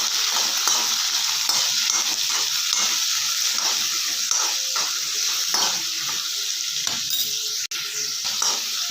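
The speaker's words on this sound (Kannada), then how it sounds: "ಕಟ್ ಮಾಡಿಟ್ಕೊಂಡಿರುವ ಈರುಳ್ಳಿ ಹಾಕ್ಕೊಳ್ಳೋಣ. ಇವಾಗ ಚೆನ್ನಾಗಿ ಮಿಕ್ಸ್ ಮಾಡ್ಕೊಳ್ಳೋಣ." Chopped onion and curry leaves frying and being stirred in a pan, giving a steady close sizzle with scraping stir strokes throughout, alone with no voices.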